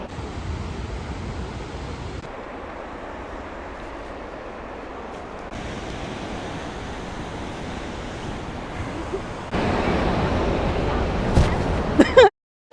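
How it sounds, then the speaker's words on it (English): A big rocky waterfall in Iceland, heard as a constant roaring wash of falling water with wind buffeting the microphone, surging louder toward the end before cutting off abruptly. "It's a big waterfall."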